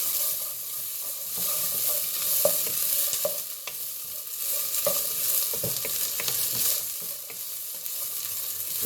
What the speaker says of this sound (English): So we're gonna cook the onions just a little bit.